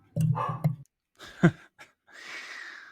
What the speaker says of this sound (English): must be someone at the door there with dogs barking there